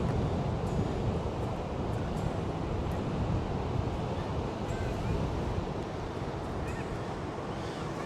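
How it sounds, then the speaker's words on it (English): Strong coastal wind blasts across the microphone near Bruges, a loud, constant roaring rumble with gusty buffeting that fills the whole stretch, close and unbroken, no voices. "It's very windy today."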